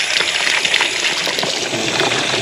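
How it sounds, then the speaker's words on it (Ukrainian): Steady rush of tap water pouring into a bottle from an outdoor tap in Belgium, continuous and fairly loud with a bright, splashing texture throughout. "І ось я бачу краник. Зараз буду набирати води."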